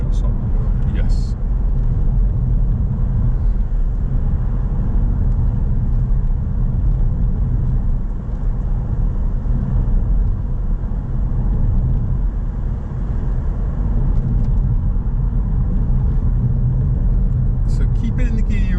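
A car climbs a hill under throttle during a driving lesson, with a loud, steady low engine and road rumble throughout while people talk over it.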